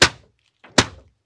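A green tennis racket smashes down on a DVD in two sharp, loud thwacking blows about three-quarters of a second apart, the second preceded by a softer knock.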